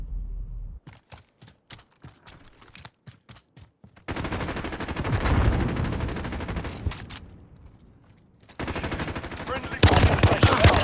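Rapid automatic gunfire in Modern Warfare on the sawmill map: bursts of sharp shots in quick succession, then a denser sustained stretch of heavy firing and explosions, with voice radio chatter under parts of it.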